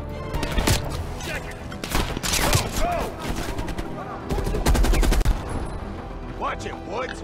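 Dense bursts of automatic gunfire from Call of Duty: Black Ops Cold War crackle loudly throughout, with rapid repeated shots layered over battle noise and voices talking.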